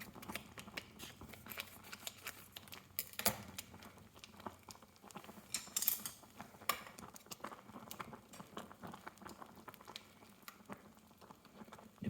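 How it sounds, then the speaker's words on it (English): Soft bubbling and irregular popping from a pot of ramen noodles simmering in pork broth, quiet and close, with a few sharper clicks and no voices. "You can actually hear how the noodles are still boiling."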